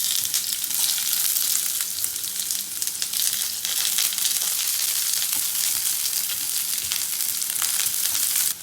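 Chopped onion hitting hot oil for a butter garlic pepper chicken and vegetable dish, producing a loud, dense crackling sizzle that continues steadily and close throughout.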